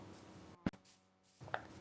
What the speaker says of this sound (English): The final day wouldn't be complete without a little bit of wood chopping.